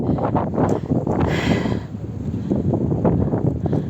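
Steady wind blusters against the microphone in a low, rough roar, with a brief airy swell in the middle; no one speaks.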